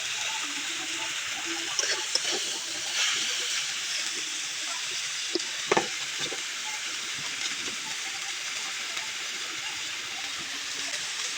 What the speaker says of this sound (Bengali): আজকের কপিটা আমরা কাঁচা একটু তেলে ভেজে নেব লবণ দিয়ে